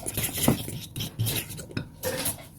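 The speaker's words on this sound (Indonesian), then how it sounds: "Aduk kembali sampai semua bahan tercampur merata." A utensil stirs cake batter made with flour in a bowl, producing scraping, clinking strokes of metal against the dish in uneven bursts, close up with no talking.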